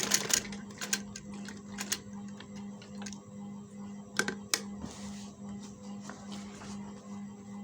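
A sewing machine stitches a square neckline along a buckram-lined edge with a soft, steady hum. It is punctuated by irregular clicks and taps at close range.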